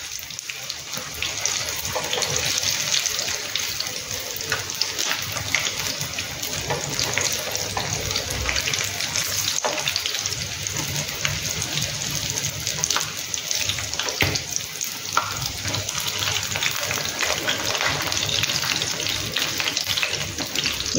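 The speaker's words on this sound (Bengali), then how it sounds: "একটু কম করে ভেজে নিতে হবে, তাহলে মাছটাও ভাজা হয়ে যাবে ভালোভাবে।" Mourala freshwater fish fritters frying in oil on a low flame, giving a steady, even hiss and crackle that runs unbroken throughout without any talk.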